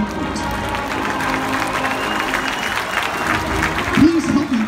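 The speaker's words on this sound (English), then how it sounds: "let's give a big round of applause to this year's incoming class" Steady crowd applause fills a stadium field during a homecoming ceremony at a Toledo Rockets game, a broad, continuous wash of clapping with a brief rising tonal sound near the end.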